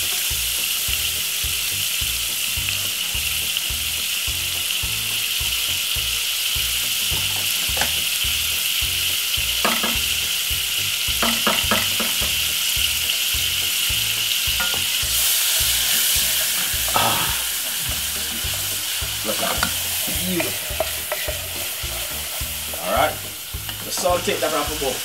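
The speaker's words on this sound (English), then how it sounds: "I just fry off my garlic and white onion" Garlic and white onion fry steadily in melted butter in a pan, a continuous close sizzle broken by the repeated scrape and clack of stirring, with no voices over it.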